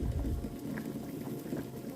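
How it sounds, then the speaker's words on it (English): Water with sliced ginger bubbling at a boil in a pot on the stove for ginger tea, a steady low rumbling churn with small pops, close and continuous. "after you're done letting this boil for approximately 10 minutes"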